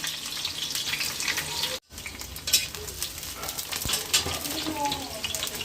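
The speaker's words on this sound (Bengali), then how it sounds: "একটা পেঁয়াজ মোটা মোটা করে কেটে রেখেছিলাম দিয়ে দিলাম একটু লাল লাল করে নিন" Thickly sliced onion fries in a pan, a steady close sizzle with stirring scrapes and clinks throughout, broken by a brief silent gap early on.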